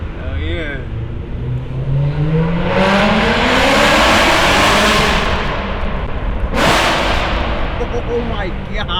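A loud BMW M3 E92 revs hard at a private car meet, a rising roar that swells to a sustained blare, drops, then snaps back with a sharp crack-like burst, with voices around it.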